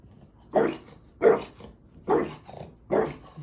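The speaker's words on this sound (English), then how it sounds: "Who are you barking at?" A French bulldog puppy barking indoors, four sharp close barks spaced evenly about every three-quarters of a second, with a soft growly tail after each one.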